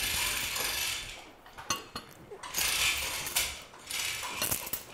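A 1940s shop hoist ratchets in several short clicking bursts separated by brief pauses, close by and fairly quiet.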